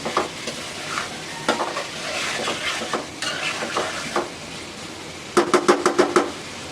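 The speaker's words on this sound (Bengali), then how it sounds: "আলু দিয়ে আমি পরিমাণ মতো ঝোল দিয়ে দিব। আলুটা একটু কষাবো।" Potatoes are sautéed in a pan, with a constant close sizzle under irregular spatula scrapes, ending in a quick run of sharp metallic taps against the pan.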